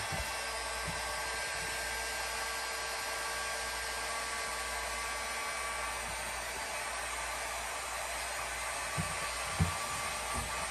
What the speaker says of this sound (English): we're gonna go ahead and run this up to max heat setting on the heat gun